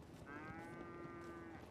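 A cow in a GTA V roleplay game gives one long, clear moo at moderate loudness, heard alone with no talk over it.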